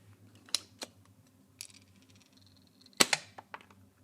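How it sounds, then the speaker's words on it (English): A spring-loaded desoldering pump, from a soldering iron kit, fires several times, with sharp, close snapping clicks spaced irregularly between quiet gaps. "It's a pea shooter."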